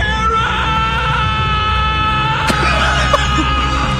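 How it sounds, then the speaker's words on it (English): A video game character turned by Dracula lets out one long, sustained scream, loud and unbroken for several seconds over a dense, noisy backdrop. "I just love how long he sustains that scream"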